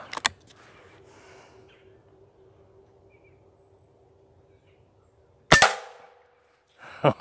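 An air rifle fires once at a 30-yard target with a sharp, loud crack, followed by a second shorter snap near the end, with faint outdoor ambience and bird sounds between.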